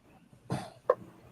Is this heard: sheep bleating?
no